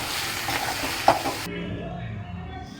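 Eggs fry and are stirred in a pan. A hissing sizzle runs under a spatula scrape, with one sharp clink before the sizzle drops to a quieter simmer.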